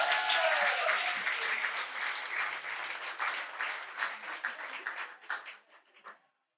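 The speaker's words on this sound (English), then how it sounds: "Let's give Megan a big round of applause." An audience at a storytelling event gives applause for a storyteller, a full burst of clapping that gradually thins into scattered individual claps before stopping.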